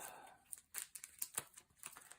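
Quiet, rapid papery riffling and flicking, like cards being shuffled up close, in short crisp bursts with no voices.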